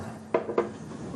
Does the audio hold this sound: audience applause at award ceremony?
no